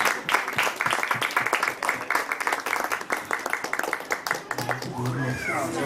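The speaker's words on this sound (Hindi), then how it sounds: "जोरदार तालियां" Loud applause from a church meeting crowd, sharp rapid claps in a busy rhythm for several seconds, tapering as a voice and a child's sounds come in near the end.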